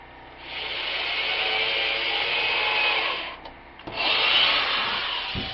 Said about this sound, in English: I'm going to drill a quick hole real fast.